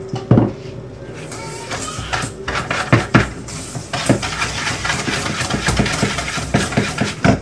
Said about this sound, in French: nous allons mélanger le sucre avec le beurre mou